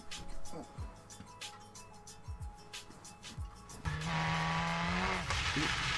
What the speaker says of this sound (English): sorry if you can hear the engine sound coming through the mic